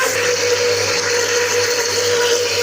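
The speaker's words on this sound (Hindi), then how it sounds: "ब्लेंडर को आपने चलता रहने देना है और ऐसा ऐसा इसके अंदर ऑयल डालते जाना है" A kitchen blender runs steadily and loudly with a constant motor whine and sloshing churn while oil is poured in to emulsify eggless mayonnaise, an even whir from start to finish with no talk.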